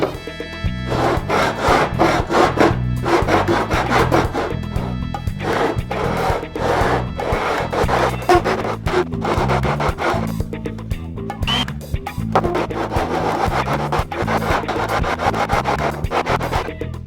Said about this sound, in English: I've got some 80 grit sandpaper glued to this board. I'm going to use it to sand these surfaces that I just cut.